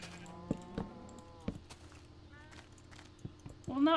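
In a sandbox video game, a few short sheep bleats sound near a pen amid faint game noises and clicks, with a louder bleat near the end.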